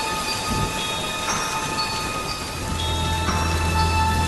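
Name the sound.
rain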